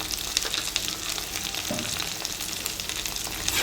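Onions with salt sautéing in a pan for a spicy Chintamani chicken curry, a loud continuous crackling sizzle with stirring clatter throughout, close up and no talking.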